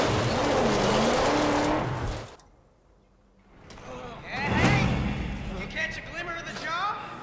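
A vehicle engine roars in the Mad Max video game, revving loudly up close before fading to near silence, then rising again with revs and tire noise as a voice talks over it.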